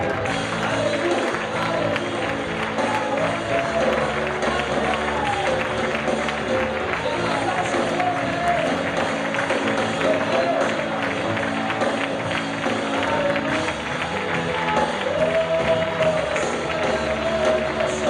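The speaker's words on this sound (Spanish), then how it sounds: "yo quiero que tú le des un aplauso fuerte al Señor ahí" A church congregation applauding loudly, a long, dense wash of clapping and crowd noise with music-like tones underneath, steady and loud throughout.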